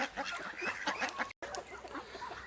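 Ducks call by a river, a busy overlapping run of quacks and honking cries at moderate distance, with a brief dropout in the middle and no talk over it.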